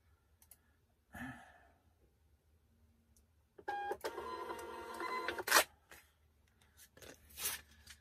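Tape is pulled and peeled off a package, giving a raspy, crackling rip that runs for a couple of seconds, with scattered rustles and short tearing sounds before and after, close and fairly quiet.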